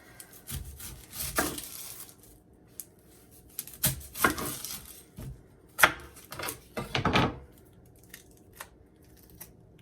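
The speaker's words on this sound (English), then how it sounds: "So next, I'm going to cut up an onion." A knife cutting up a large onion on a board, scattered dry crunching slices and soft taps, irregular and fairly quiet, close by with no talking.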